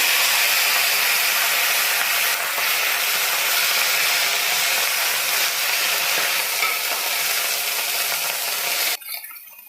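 Washed moringa leaves sizzle and crackle steadily in hot oil in a pan with fried urad and chana dal, a loud dense frying hiss that cuts off abruptly near the end.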